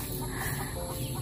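Chickens clucking and fowl calling amid a busy, noisy farmyard background, fairly close and continuous throughout.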